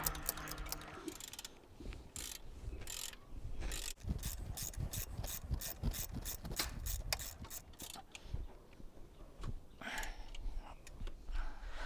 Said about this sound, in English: In the meantime, we put a caliper back on and we bolt it in.